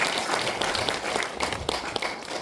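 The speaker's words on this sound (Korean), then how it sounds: "박수 부탁드립니다." An audience applauds at a community panel talk on local self-government, steady clapping filling the space at an even level for a couple of seconds without pause.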